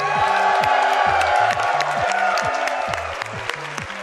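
A live crowd at the SGDQ 2018 charity gaming marathon applauds and cheers loudly and steadily during a Mario Maker relay race, with stepping electronic game tones underneath.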